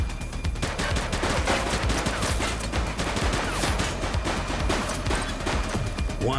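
Dense, rapid gunfire from a police shootout in the video game The Precinct: a loud, continuous barrage of overlapping shots and bursts that fills the whole stretch with no break.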